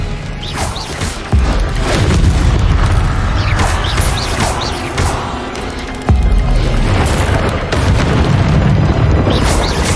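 Spell combat in Hogwarts Legacy as an Expelliarmus spell is cast: two heavy booming impacts land a few seconds apart over a continuous rumbling, crackling layer of magical whooshes and blasts.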